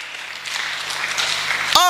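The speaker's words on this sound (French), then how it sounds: "On acclame. On acclame." A church congregation applauding during a Sunday service, a broad wash of clapping that swells gradually before a sharp cut to a brief tonal sound at the end.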